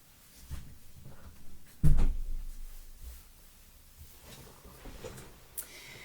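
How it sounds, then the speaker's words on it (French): A door shut indoors with a single dull thump, preceded by brief shuffling and handling sounds and followed by quiet room noise. "je vais juste aller fermer la porte"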